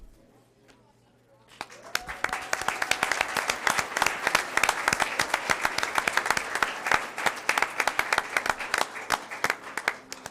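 A school board meeting audience gives sustained applause for recognized students, dense clapping rising suddenly and continuing loud and steady, with faint crowd murmur underneath.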